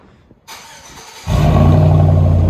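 A 2004 GMC Sierra 4.8L V8 with true dual straight-pipe exhaust starts up nearby: a short crank, then the engine catches into a loud, deep, steady rumbling idle.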